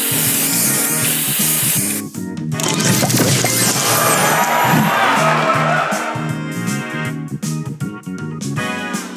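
A loud spray booster effect bursts in the Match Masters mobile game, a hissing spray and crashing impacts layered over game music and crowd-like cheering.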